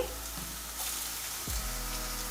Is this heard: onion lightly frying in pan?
yes